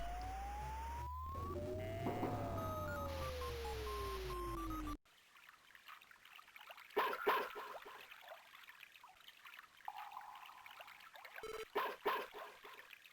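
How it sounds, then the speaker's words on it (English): Dog barking in the Mother 3 video game, heard as a few short, sharp bursts amid game sound effects and music, moderately loud and spaced irregularly. "There's Boney barking."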